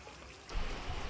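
Rain falls steadily in a rural Isan Thai village setting, a broadband wash of drops and trickling runoff that swells noticeably louder halfway through and stays close and continuous.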